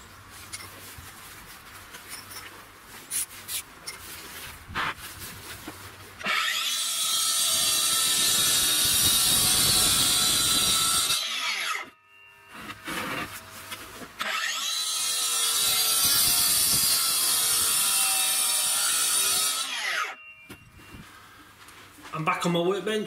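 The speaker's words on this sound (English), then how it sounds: "I just roughed it out with a DeWalt saw" A cordless DeWalt saw cuts stone in a stone yard in two long, loud, harsh grinding bursts with a brief pause between, close by, with quieter handling noise before, between and after.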